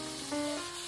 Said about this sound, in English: I'm gonna spray my hair real quick.